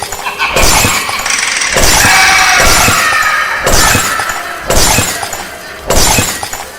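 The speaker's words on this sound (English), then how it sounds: "Then he swung the bat down and smashed the windshield." A car windshield is smashed with a bat in repeated loud blows, each impact bursting into crashing, shattering glass that sprays and tinkles between strikes; no voices.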